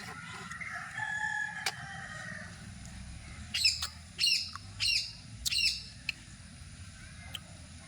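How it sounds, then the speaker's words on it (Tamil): A green parrot lets out a run of loud, harsh squawks, four or five in quick succession, close by in a quiet village setting with a faint low background hum. "கிளி கத்துது."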